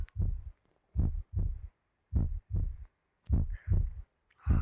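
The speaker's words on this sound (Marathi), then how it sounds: "हार्टबीट माझी झाला संपला." Video game heartbeat effect: deep, loud thumps in paired lub-dub beats, about four pairs repeating steadily and close, with no other sound between them.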